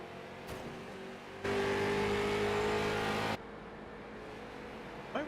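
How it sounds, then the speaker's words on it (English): A MetalMoro MRX Honda P3 prototype race car engine idles loudly at a race track in Campo Grande, then revs hard to a sustained roar for about two seconds before dropping back to a steady rumble. "Why was his car so loud?"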